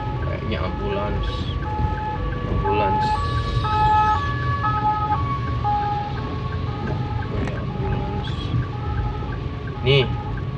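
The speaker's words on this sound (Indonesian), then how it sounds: "Oh, kayaknya ambulans." An ambulance siren wails in a repeating two-tone pattern on a road, heard steadily over traffic rumble with some vehicle noise, and a person talks over it.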